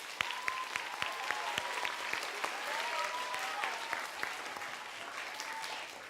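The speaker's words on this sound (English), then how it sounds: "let's give them one last round of applause" A theatre audience at Orlando Shakes gives the Osbornes a warm round of applause, sustained dense clapping with distinct sharp individual claps and a few faint cheers, steady for several seconds at a moderate distance.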